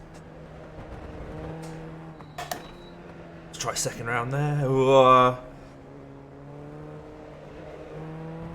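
Formula Ford 1600 race car in the iRacing sim, its engine droning steadily with a sharp rise in pitch and heavy tyre noise midway, while someone talks over it.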